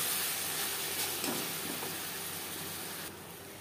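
Ginger and green chili paste sizzles steadily in a hot frying pan over browned onions, a constant close hiss that drops slightly in level near the end.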